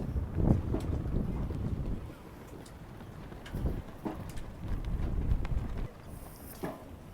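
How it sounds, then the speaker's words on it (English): Strong wind at Navy Pier on the Chicago lakefront buffets the microphone in rumbling gusts that rise and fall, with faint outdoor sounds underneath. "very windy out here today"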